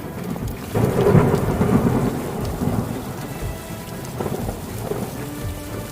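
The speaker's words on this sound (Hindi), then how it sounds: "देखो कितनी जोर की बारिश हो रही है।" Heavy rain pours steadily with rumbling thunder underneath, loud and close, the downpour swelling and easing slightly over the few seconds.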